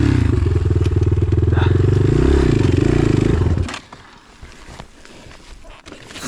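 A moped engine drones loudly with a steady throbbing rumble while snagged on a branch and root along a stream, then cuts out, leaving quieter scraping and outdoor noise.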